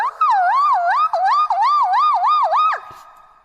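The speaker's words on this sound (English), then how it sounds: "It's a siren." A wailing siren sweeps rapidly up and down in a steady warbling cycle, loud and close, before cutting off abruptly at the end; no talking.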